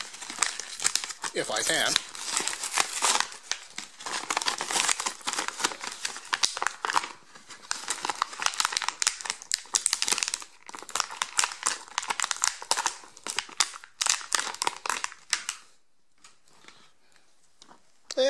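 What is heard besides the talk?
action figure being pulled out of cardboard blister packaging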